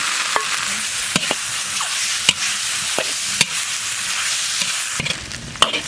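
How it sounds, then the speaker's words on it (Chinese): Diced pork stir-frying in a dry wok with no oil, giving a steady loud hiss and sizzle broken by sharp spatula scrapes and clacks at irregular intervals, with no voices. "锅里不倒油，把肉倒进去煸一下"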